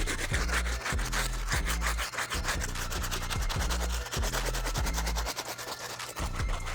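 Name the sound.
stiff bristle brush scrubbing sneaker midsole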